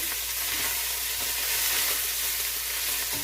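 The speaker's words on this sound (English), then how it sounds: "It's searing nicely" Beef searing in oil for Hungarian goulash gives a loud, continuous sizzle and frying hiss right at the pan, steady throughout with no speech.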